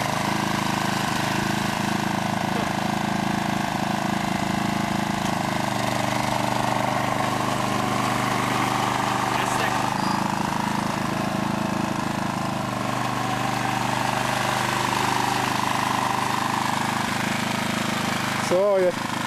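A Wolf Garten garden cart's small engine revs steadily while its wheels spin in mud, a loud continuous buzzing drone with slight changes in pitch as the load shifts, running throughout without a break.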